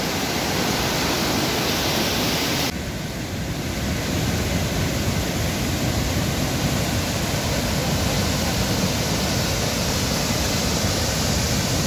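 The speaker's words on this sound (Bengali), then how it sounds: "বুঝতে পারছেন নদীর আওয়াজ" A glacier-fed mountain river from Kailash glacier on the Manimahesh Kailash route rushes with a loud, dense, unbroken roar filling the whole stretch, steady and close, with no voices.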